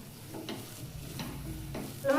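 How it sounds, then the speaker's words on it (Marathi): Masala sautéing in a pan for paratha filling, a soft low sizzle with periodic stirring scrapes of the spoon, close and moderately quiet. "एक मिनिट आपण परतून घेऊया व्यवस्थित."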